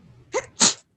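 A single close sneeze during a parks and recreation meeting: a short sharp intake followed by a loud, breathy burst, then silence.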